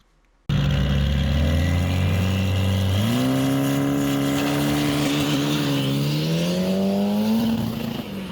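A V6 Plymouth Laser engine roars into a drag racing pass, starting abruptly and revving up through rising gear pulls, loud and close, with no talk.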